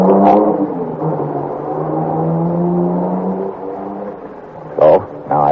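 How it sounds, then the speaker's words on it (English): A car pulls away and drives off through a village in a radio drama sound effect, a steady engine drone with rising and falling pitch that holds for several seconds before a couple of short sharper bursts near the end. "They all pile into the car and take off through the village"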